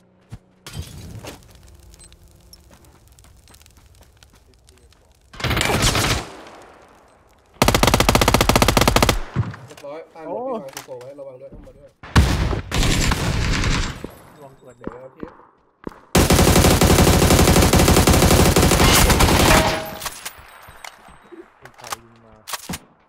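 Gunfire in the PC game PUBG: Battlegrounds, with several loud bursts of automatic fire and single shots between quieter stretches, plus glassy impact sounds and players talking in the gaps.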